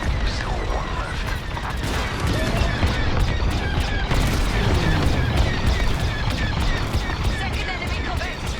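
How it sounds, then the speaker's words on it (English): An enemy corvette breaks apart under fire in a Star Wars: Squadrons space battle, with a dense continuous wash of booming blasts and crashing debris and talk mixed in over the chaos. "Second enemy corvette is coming apart."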